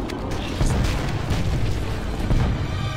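Heavy booming shotgun blasts from a blunderbuss-style weapon in the game Halo CE, a dense low rumble of repeated shots filling the whole moment with a loud close punch.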